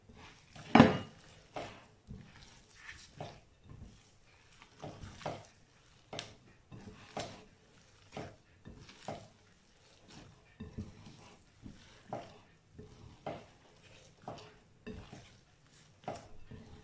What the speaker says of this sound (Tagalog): Mix na natin na mabuti.